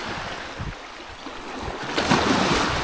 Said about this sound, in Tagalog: dagat.